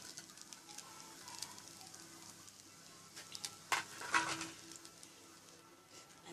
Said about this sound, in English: So now I am going to add the fried eggs and the potatoes to this.